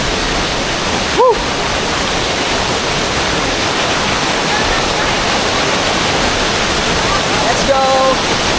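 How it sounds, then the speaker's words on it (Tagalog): Steady broadband rush of water pouring down at Bolinao Falls in Bolinao, Pangasinan, a continuous even roar filling the scene, with a brief whoop and a short call heard over it. "lapitan natin yung ano, yung binabagsakan ng tubig"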